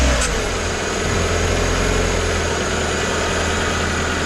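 Single-engine Cessna 182 aircraft engine running at a steady idle after starting, a loud continuous low rumble with a brief sharp onset at the start.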